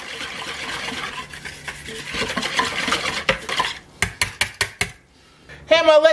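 Yeast, sugar and flour being stirred together in a bowl for vegan deep dish pizza dough: steady scraping and stirring, then a run of sharp clinks and taps near the end, close and fairly loud.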